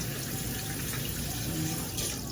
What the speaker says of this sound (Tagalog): Pinatuloan ko lang sa gripo.